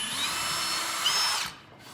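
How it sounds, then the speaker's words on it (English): A power drill bores angled pilot holes for pocket-hole joinery with a loud, steady, high whine that runs continuously for about a second and a half, then cuts off abruptly into near silence. "I'm gonna take my drill and I'm gonna drill these holes"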